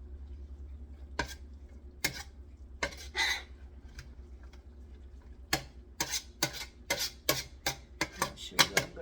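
Spoon scraping and clinking in a pot of homemade spaghetti sauce with meat and vegetables, a few sparse knocks at first, then a quicker run of sharp metallic taps, close and fairly quiet.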